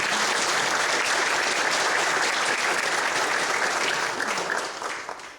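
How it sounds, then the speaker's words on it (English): Sustained crowd applause at a high school historical marker dedication honoring a retiring school safety officer, steady and full for several seconds before thinning and fading toward the end. "Let me give him a round of applause."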